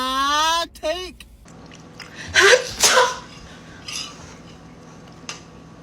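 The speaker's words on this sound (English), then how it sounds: "I sneezed by accident." A person lets out a sudden, loud sneeze close by, a short voiced sound first, then an explosive burst split into two sharp blasts, trailing into quiet room noise.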